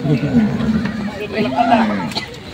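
A horse neighs at a livestock auction market, a wavering whinny rising out of a busy mix of crowd chatter and nearby voices.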